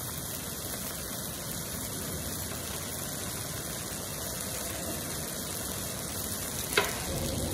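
Egg tofu and seafood mushrooms stir-fried in a wok with a thin starch slurry, giving a steady, close sizzle and bubbling throughout, with one brief clink near the end.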